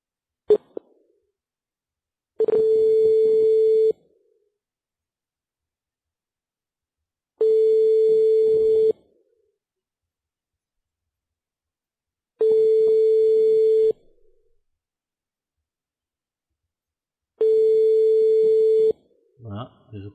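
Telephone busy tone after a hung-up call: four steady mid-pitched beeps, each about a second and a half long, separated by long silences, with a click at the start and a short burst of voice at the end.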